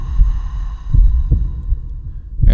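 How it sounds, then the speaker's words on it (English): Slow, deep heartbeat thumps from a New Age music track, low and throbbing at a steady pulse over a soft hum, with no voices. "There we go, just some heartbeat"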